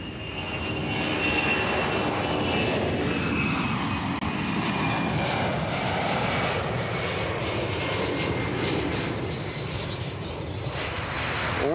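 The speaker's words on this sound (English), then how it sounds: "Another C-17, the spirit of Berlin, made one final flyby as a final salute to the celebrated airbase." A C-17 transport aircraft makes a flyby over Rhein-Main Air Base, its engine roar broad and steady for the whole span, loud and close with no voices.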